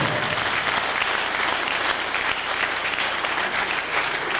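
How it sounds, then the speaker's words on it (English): An audience at a Danbury Republican Town Committee nomination meeting claps loudly and steadily, a dense, continuous burst of applause filling the room with no break. "You should clap for that."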